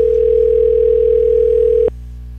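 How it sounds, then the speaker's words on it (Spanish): A steady telephone line tone hums loudly while an extension is dialed in an Asterisk IVR phone system test. It cuts off abruptly near the end, leaving a low hum, and no one speaks. "Ahí está marcando al teléfono 2"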